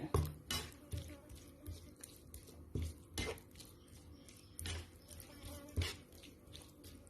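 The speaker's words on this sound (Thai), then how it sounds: "อ่าอันนี้ก็คือหมูสับที่เราตักออกตะกี้นะครับ จะมายำยำรวมกัน" Wet squishing and clinking as minced pork is mixed with a pork soup seasoned with shrimp paste and fermented fish for a Lanna-style cha-om salad, with irregular spoon taps against a bowl, close and fairly quiet.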